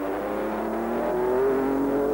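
A Jaguar C-Type race car at Le Mans in 1953 drives past with a steady engine drone whose pitch climbs gently, heard close and fairly loud without any voices.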